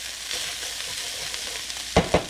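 Ground pork sizzling in a pan during a stir fry, a steady crackling hiss with two sharp scraping stirs near the end.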